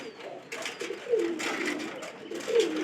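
Pigeons coo in soft rolling phrases just before bathing, several repeated calls close by with light clicks and rustles between them.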